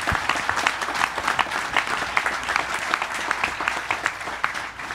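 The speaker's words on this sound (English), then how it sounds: "One more round of applause for everybody." An audience at a space-themed panel discussion gives a steady round of applause, many hands clapping together at moderate loudness, fading slightly at the end.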